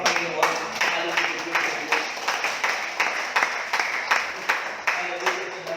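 A church congregation claps steadily in a rhythmic, even beat at a praise service, loud and continuous with some voices mixed in.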